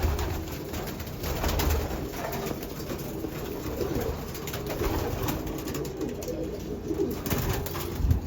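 Pet pigeons coo in a loft with soft, repeated throaty calls over a low, continuous background rumble, fairly close and heard without any talk.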